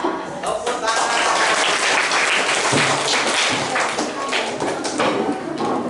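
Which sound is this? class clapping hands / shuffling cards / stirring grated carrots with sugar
class clapping hands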